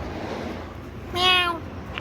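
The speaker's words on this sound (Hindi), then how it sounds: "माऊ बिल्ली" A cat meows outside a small roadside tea restaurant in Ujjain, one clear drawn-out call standing out over steady background noise.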